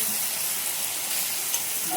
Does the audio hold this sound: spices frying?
yes